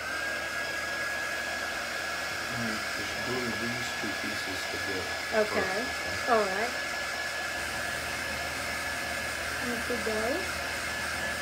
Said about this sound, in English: Let me hit these with the heat gun and show you how this looks so far.